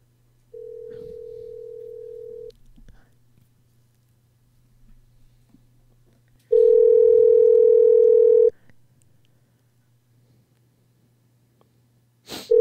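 Telephone dial tone while placing a call: a steady tone for about two seconds, then after a pause a louder, richer tone for two more seconds, with faint breathing and small handling noises between.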